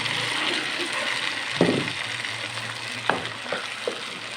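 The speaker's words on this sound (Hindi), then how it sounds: "अब इसके हम डालेंगे 1 कप टोमेटो पेस्ट।" Tomato paste hits hot oil with frying garlic in a pan, a steady loud sizzle with a few sharp crackles and stirring scrapes punctuating it, close and continuous.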